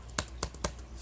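A computer keyboard spacebar is pressed three times in quick, close clicks, sharp and fairly quiet over a low background hum.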